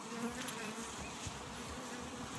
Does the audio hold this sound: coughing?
no